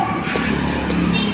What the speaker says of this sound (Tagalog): Naglalabasan na naman ang mga motor.